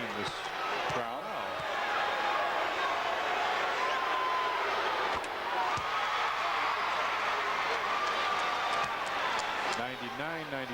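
A huge basketball arena crowd of about 20,000 at a Bulls game against the 76ers in Pennsylvania roars and murmurs steadily, a loud, continuous wash of noise under a commentator's voice, with occasional ball bounces and sharp thumps.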